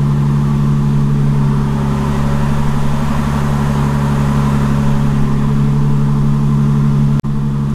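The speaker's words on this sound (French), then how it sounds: "pour une Bentley, je te garantis que ça fait beaucoup de bruit" Bentley engine running loudly at close range, a steady, heavy low idle drone with strong harmonic rumble, continuous until a brief sharp cut near the end.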